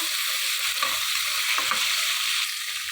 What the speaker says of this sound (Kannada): ಇದು ಲೈಟಾಗಿ ಫ್ರೈ ಆಗ್ತಾ ಇರಲಿ